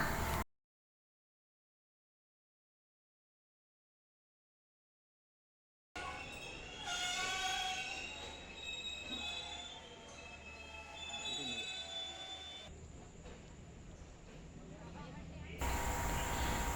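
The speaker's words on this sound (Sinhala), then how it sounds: "මේ එන ට්‍රේන් එක තමයි කොළඹ කොටුවේ ඉඳලා මහනුවර හරහා බදුල්ලට යන ස්පෙෂල් 1 එක" A Colombo Fort to Badulla special train, routed via Kandy and hauled by an S14 unit, arrives at a station after a stretch of silence. A steady rumble of rolling wagons follows, with thin wheel squeals, heard from nearby.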